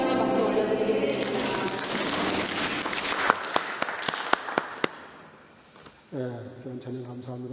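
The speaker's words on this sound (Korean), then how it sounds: "하나님께 영광의 박수 올려드리겠습니다." A church congregation at a Korean Sunday service applauds loudly, then the clapping thins to a few scattered claps and fades before a voice starts speaking.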